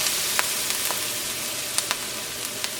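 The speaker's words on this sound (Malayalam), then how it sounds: "ഇതെല്ലാം കൂടിയിട്ടൊന്ന് വഴറ്റിയെടുക്കാം." Onion, ginger, garlic, green chili and curry leaves sauté in hot oil for a beef kheema curry. A close, steady sizzle carries faint crackles and pops, with no voices.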